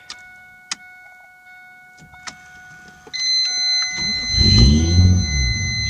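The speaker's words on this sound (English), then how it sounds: "Alright, we'll turn the car on here." Toyota Supra engine cranking and starting up, a sharp broadband burst that settles into a loud, steady low idle after a few clicks and dashboard chimes.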